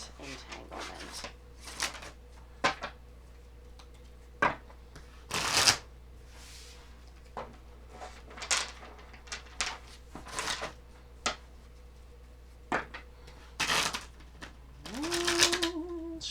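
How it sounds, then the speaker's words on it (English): Tarot cards shuffled close by in a series of quick riffling bursts and soft slaps, repeating irregularly with short quiet gaps over a low steady background hum. "Shuffling."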